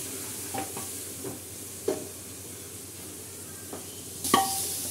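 Soft sizzling of spices tempering in a hot pan, with a few light scrapes and clinks of stirring, quiet and close.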